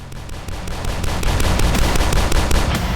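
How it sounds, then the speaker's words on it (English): Pistol gunfire in the video game DUSK comes as a rapid run of sharp, loud shots, about a dozen evenly spaced cracks over a booming low rumble with no pause. "And the pistol sound is,"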